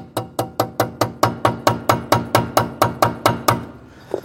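A hammer strikes an old Torx bit to drive a pin out on a Mercedes W124: about fifteen sharp metallic blows at a steady, quick rhythm, loud and close, followed by a brief pause and a faint clink.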